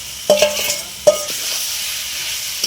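Mutton stir-fried in a pot with ginger, garlic and tomato paste: a couple of scraping spatula strokes rasp against the metal over a low, steady sizzle, with no talking.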